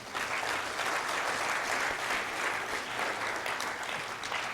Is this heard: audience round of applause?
yes